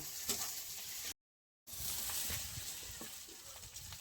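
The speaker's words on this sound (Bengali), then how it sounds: "ভালো করে মশলাটা একটু কষিয়ে নেব" Spice paste fries in a pan for fish curry, a faint, steady sizzling hiss that continues on both sides of a brief silent gap.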